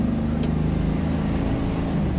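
A car engine running smoothly at a steady idle, an even low hum with faint mechanical texture and no talking over it.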